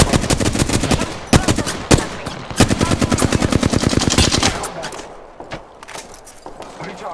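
Gunfire in the video game Apex Legends, rapid automatic bursts rattling loudly and close, with sharp single shots mixed in, tapering to sparser shots toward the end; a voice speaks underneath.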